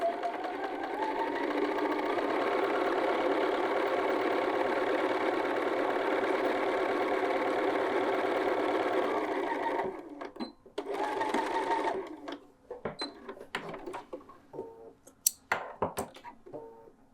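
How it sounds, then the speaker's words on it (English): A sewing machine runs in a steady, fast whir for about ten seconds while stitching a quilted jacket pocket, then gives a few short back-tacking bursts, with light clicks and handling noises between them. "I'm back tacking just a few stitches."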